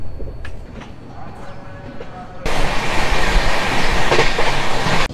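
The 12302 New Delhi–Howrah Rajdhani Express rolls on just after leaving Dhanbad: a muffled interior rumble that swells suddenly halfway into a loud, steady roar with rail clatter.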